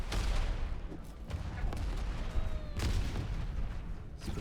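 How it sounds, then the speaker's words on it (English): Grenades bounce and burst in rapid succession during a Diabotical arena shooter match, with loud booms and crackling gunfire layered densely throughout and several sharper blasts standing out. "Grenades bouncing around."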